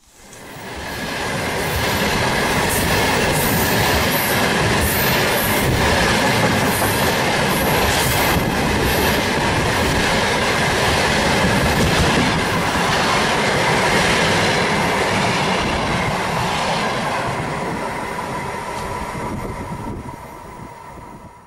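A train rolls past on a busy Lithuanian mainline between Vilnius and Kl..., swelling in quickly and holding a loud, steady rumble with clickety-clack wheel beats and faint squeals before easing away.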